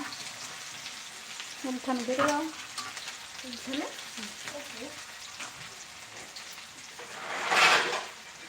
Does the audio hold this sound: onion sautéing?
yes